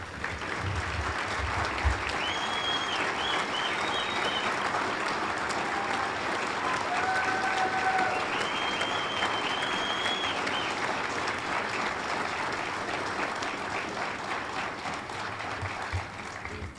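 Families applaud at a police academy graduation for the 112th cadet class in Albuquerque, loud continuous clapping from a large crowd that fills the hall for the full stretch with faint whistles over it.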